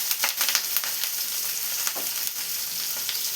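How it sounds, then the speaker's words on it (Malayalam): Fish shallow frying in a pan over a low-medium flame, a steady close sizzle with crackling pops and occasional scraping. "ഇനി ഒരു ലോ ടു മീഡിയം ഫ്ലെയിമിനുള്ള വെച്ച് ഇതൊന്ന് ഫ്രൈ ചെയ്തെടുക്കണം"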